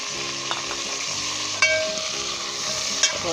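Chicken pieces frying in a pan with cumin, turmeric, red chili and salt, a steady close sizzle broken by a few sharp spoon scrapes and clinks as it is stirred, with no voices.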